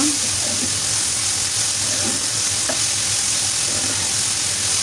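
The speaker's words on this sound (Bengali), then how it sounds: "এখন ঢাকনাটা খুলে আবার নাড়াচাড়া করে দিচ্ছি ভাজিটা।" Vegetable bhaji sizzles steadily in a pan while a spoon stirs it, with soft scraping knocks over the close, continuous frying hiss.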